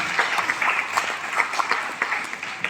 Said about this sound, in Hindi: मुझे बिना बोले आप लोगों को जोरदार तालियां बजाई देनी थी